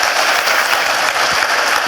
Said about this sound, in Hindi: तो एक बार जोरदार तालियां मोदी केयर के लिए हो जाए।